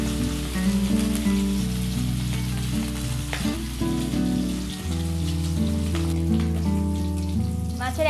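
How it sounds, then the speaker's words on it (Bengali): Pieces of rohu fish fry in hot oil, a loud continuous sizzle and crackle close by, with tonal background music running underneath. "আমি এবার এক এক করে মাছগুলো এর মধ্যে দিয়ে ভেজে নেব।"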